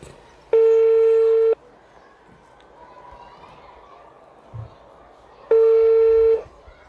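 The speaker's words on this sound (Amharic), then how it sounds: "እየጠራ ነው ቤተሰቦች" Two loud, steady telephone ringback tones of about a second each, separated by a gap of quiet background and faint talk, as a call is placed to a man's mobile phone.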